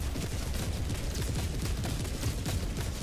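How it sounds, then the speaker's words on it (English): Orbital barrage strike in Helldivers 2, a dense, continuous roll of heavy explosions and booms that rumbles loudly and steadily throughout with no pause. "Orbital barrage incoming."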